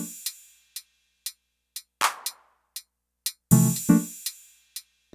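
Elektron Syntakt drum machine pattern played clean and sparse: regular ticking hi-hat hits, a snare-like crack, and a louder tonal hit near the end, with plenty of silence between sounds.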